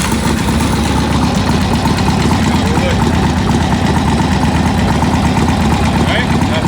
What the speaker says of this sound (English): Get the bike fired up.